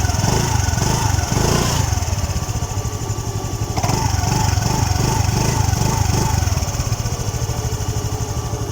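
A Honda Activa 5G scooter engine runs steadily after a full service, a continuous close idle with a fine rapid pulse and a brief rise in revs midway, no talking.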